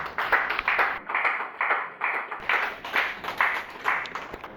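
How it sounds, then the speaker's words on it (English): A crowd applauds with brisk, steady clapping that swells and dips in waves, loud and close. "with a round of applause, kindly help me welcome Mrs. Faustina."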